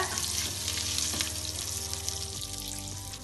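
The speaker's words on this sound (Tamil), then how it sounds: "எல்லாமே நல்லா பொரிஞ்சிடுச்சு" Peanuts fry in hot oil for tamarind rice, giving a steady, close, crackling sizzle with faint stirring clatter and a low hum underneath, with no talking.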